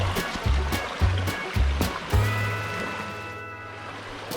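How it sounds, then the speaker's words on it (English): Swollen creek after rain rushing steadily nearby, a broadband wash of flowing water with a few low thumps and knocks over it, no voices. "the creek is a little swollen"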